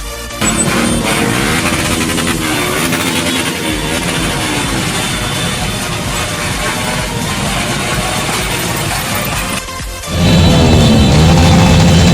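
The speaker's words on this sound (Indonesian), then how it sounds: "Jangan dikotori dengan suara-suara knalpot brong" Motorcycles with loud modified exhausts rumbling in a victory convoy through the streets of Makassar, a dense continuous engine roar that swells sharply louder near the end after a brief dip.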